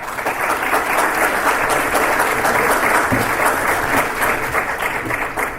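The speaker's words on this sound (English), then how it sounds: "welcome him with a warm applause" Loud, sustained applause fills the hall as a conference audience at a Catholic new media gathering welcomes a keynote speaker, a thick, even roar of many hands clapping close by.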